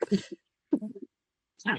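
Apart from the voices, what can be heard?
sneeze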